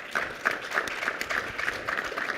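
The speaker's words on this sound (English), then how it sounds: "Let's have a round of applause" Faint audience applause at a business festival panel on the economy, with fairly regular clapping pulses heard from a distance.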